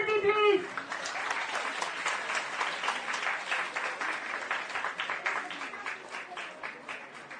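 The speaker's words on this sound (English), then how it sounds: "A huge round of applause for Dhriti" A crowd at a school prize-giving during a poster-making activity applauds a winner, steady dense clapping filling the room throughout, with a brief voice at the very start.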